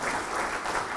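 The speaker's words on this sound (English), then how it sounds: "So let's give her a round of applause." Crowd applause at a ribbon cutting for a long-established carwash, a brief continuous burst of steady clapping from a gathered audience.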